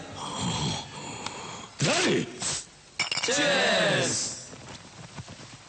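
Glasses clink together in a celebratory toast in a Telugu film scene, bright chimes rising over voices, with loud bursts and background sound between them.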